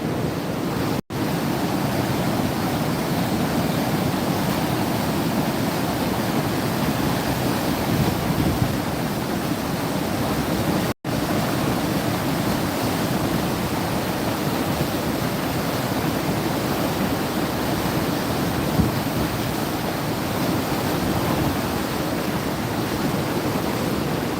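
Steady, dense roaring snowstorm wind heard through an open window in Buffalo, New York, fills the whole stretch without letting up, a broad rushing hiss with no voices.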